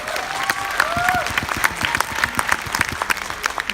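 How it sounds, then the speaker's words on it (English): Applause from an audience, dense and steady clapping throughout, with a few brief tonal sounds layered in the background. "Please give her another round of applause."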